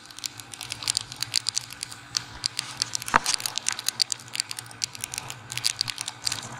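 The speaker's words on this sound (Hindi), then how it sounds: "और आई थिंक बारिश आ गई है" Rain pattering steadily during a motorcycle ride toward Mussoorie on a Royal Enfield Himalayan, a dense spray of fine close taps with no voices.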